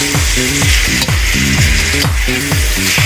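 Chop suey vegetables with carrots fry loudly in a pan, a strong continuous sizzle broken by rhythmic scraping stirs repeating about every half second, close up.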